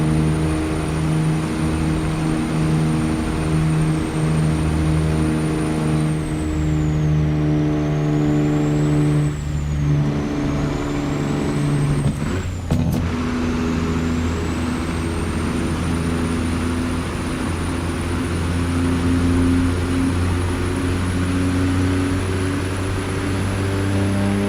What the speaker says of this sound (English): it's a John Ruder highway killer, Kenworth